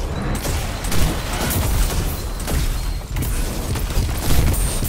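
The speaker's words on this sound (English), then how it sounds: "Oh my god, look at these explosions." Explosions in the video game Destiny 2, a dense, continuous barrage of booming blasts and crackling gunfire, loud and unbroken throughout with no talk.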